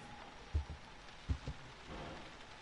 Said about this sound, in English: It was raining outside.